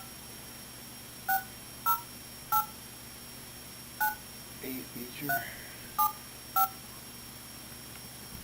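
A telephone keypad sounds a series of short, sharp dialing tones, about eight beeps spaced irregularly, with brief speech in between.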